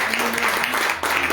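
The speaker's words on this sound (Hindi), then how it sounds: "तालियां दो।" Audience applause at a church sermon, a brief burst of clapping heard close and fairly loud.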